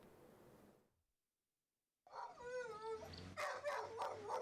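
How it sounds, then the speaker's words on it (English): Sniffer dogs at the military working dogs' K9 kennel wing of Abuja's Nnamdi Azikiwe International Airport give a few whining yelps and barks after a silent gap, fairly quiet against room noise. "Aviation correspondent Emmanuel Aimiro visited the military working dogs kennel wing of the Abuja airport to witness firsthand the training of sniffer dogs"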